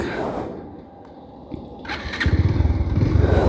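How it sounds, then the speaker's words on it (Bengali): A Bajaj Pulsar DD 150cc motorcycle engine idles close by and then grows louder with a steady pulsing throb in the second half. "এটা হলো একটা বাইক যেটার নাম হলো পালসার"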